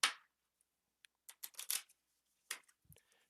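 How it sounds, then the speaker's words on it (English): A deck of cards shuffled by hand during a Sentinels of the Multiverse card game, heard as quiet, close bursts of riffling and snapping cards with short pauses in between. "Okay, I'm gonna shuffle it"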